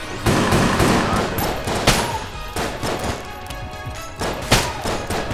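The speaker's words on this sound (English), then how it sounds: "It looks like he throws like these uh, bullets that delay and then they all come at you in one shot." Dense video-game gunfire from Enter the Gungeon, with bullets fired at the player in loud, rapid volleys and heavy thumps layered over one another almost without a break.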